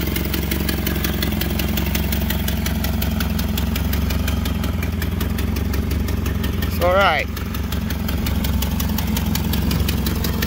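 A Nissan Silvia's FJ20ET race engine idles steadily after start-up, a close, even rumble with a fast pulsing beat that runs throughout. Someone speaks briefly over it.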